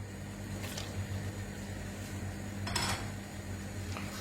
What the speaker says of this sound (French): je mets les moules dans la sauce